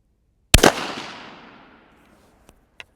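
A Savage B-Mag Target rifle in .17 WSM fires a single sharp, loud shot whose echo fades over about a second and a half. Two faint, brief clicks follow, with no talking.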